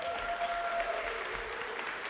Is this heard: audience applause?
yes